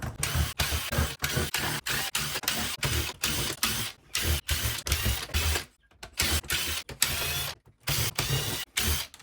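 Screws being backed out while a karaoke machine is stripped for scrap, giving repeated ratcheting, clicking mechanical bursts with short pauses between them, close and fairly loud.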